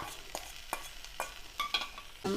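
A spoon stirs precooked oil-packed tuna into a simmering tuna curry, making about six scraping strokes in a loose rhythm over a soft sizzle, close by, with no talking.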